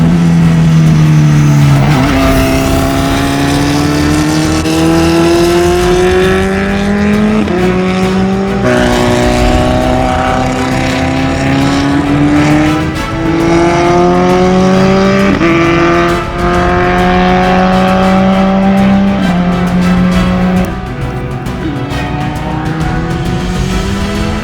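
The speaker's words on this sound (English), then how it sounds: "The F2000 built by JM Automotives for a racing series." An F2000 single-seater race car built by JM Automotives screams around a track, its loud engine note rising and falling through repeated upshifts and throttle changes with no pauses.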